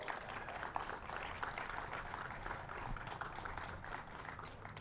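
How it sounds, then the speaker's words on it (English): Applause from a crowd gathered outdoors for a Juneteenth flag raising, a steady dense clapping wash that holds at an even level throughout, moderately close, with no voices over it. "Please give her a round of applause."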